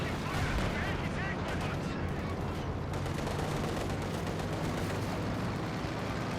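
Anti-tank guns fire repeatedly at a T-35 tank in the strategy game Company of Heroes 2, a dense, continuous barrage of loud gunshots and artillery blasts with occasional brief commentary underneath.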